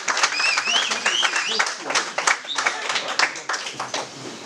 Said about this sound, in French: Et on peut encore les applaudir très fort.